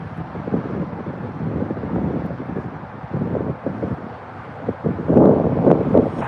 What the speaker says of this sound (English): the wind want to play games